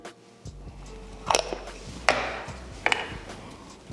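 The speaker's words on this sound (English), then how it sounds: "we're gonna mix and incorporate all this together" A whisk stirs flour, baking powder and salt in a bowl for dumplings, making a few scattered scraping taps and clinks against the bowl over a quiet background.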